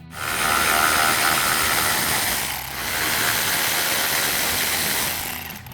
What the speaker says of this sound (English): remove your 3 last 10mm bolts, 2 on the top, and 1 is recessed in the middle